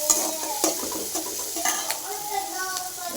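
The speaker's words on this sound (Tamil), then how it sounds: "வெங்காயம் போட்டு நல்லா வதக்கிக்கணும்" Onions sautéing in a pan with mustard seeds and curry leaves for tomato rice, a steady sizzle broken by sharp spoon scrapes and clinks against the pan, with a faint voice in the background.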